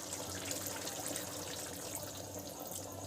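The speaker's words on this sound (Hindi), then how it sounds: "एमा थोड़ा आव पानी डाल देता हूँ संगवारी हो, ताकि अच्छे से पक जाए।" Water running steadily and fairly quietly while it is poured into a cooking pot of egg curry, a continuous faint splashing trickle with no talk.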